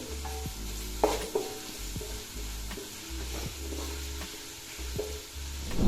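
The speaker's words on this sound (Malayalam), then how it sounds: "നമ്മുടെ ഉള്ളി ഇപ്പോൾ നമ്മളൊരു 2 മിനിറ്റായി ഇത് വഴറ്റാൻ തുടങ്ങിയിട്ട്." Sliced large onions and split green chilies sauté in a pan for chicken biriyani, a steady soft sizzle under intermittent clanks and scrapes of a spoon stirring, with no talking.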